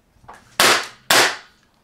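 An M17 BB gun pistol fired twice about half a second apart, each shot a sharp, close crack that fades quickly, with no talk.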